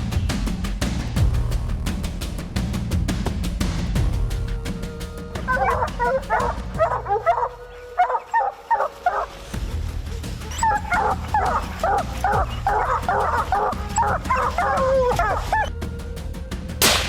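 Several hunting hounds bark and yelp in repeated bursts while tracking a bear, some sharp and some whining, with a short lull in the middle before the barking picks up again.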